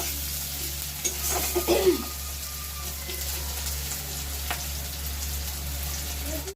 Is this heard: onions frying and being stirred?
yes